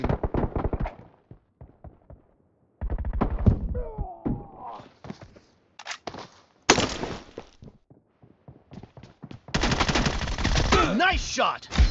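Bursts of automatic gunfire in PUBG Mobile team deathmatch, loud, close rapid volleys separated by short pauses, with a few sharper single cracks.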